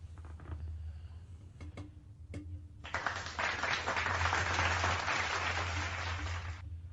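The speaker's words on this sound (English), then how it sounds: "You deserve a round of applause." Applause breaks out after a few sharp taps and builds into a dense, steady wash of clapping that runs for several seconds at moderate level before cutting off, over a low constant hum.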